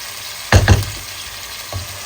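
Biryani frying in a pot just after sour yogurt goes in, oil rising to the surface: a steady low sizzle with two quick stirring bursts near the start and a softer one later, no voices.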